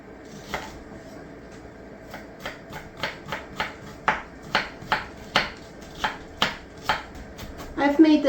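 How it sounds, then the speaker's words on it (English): A knife finely chops fresh onion on a board in a kitchen, producing a series of crisp, close, rhythmic taps that grow quicker and louder, then end in a brief rustle. "So what we need is our onion chopped up."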